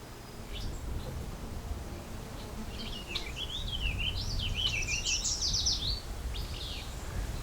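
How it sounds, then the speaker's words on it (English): Outdoor calls of two male willow flycatchers, several short sweeping and warbling notes from a few meters away, mostly in the middle stretch, with low background rumble. "Two male willow flycatchers."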